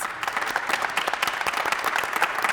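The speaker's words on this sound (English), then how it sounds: "Let's clap our hands together for the teachers and the kids." Sustained applause from a crowd, dense rapid clapping that keeps an even level throughout with no voices standing out.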